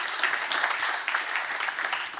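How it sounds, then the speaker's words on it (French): Steady applause from a conference audience welcoming a speaker onto the stage, a dense, even wash of many hands clapping at once with no voices over it. "Merci de l'applaudir."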